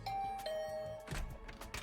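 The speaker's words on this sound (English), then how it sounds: "I rang the doorbell and waited." A two-tone electronic doorbell chime in the video game The Hundred Line: Last Defense Academy, heard alone and clearly, with a long ringing first tone followed by a second note and a brief busier tail.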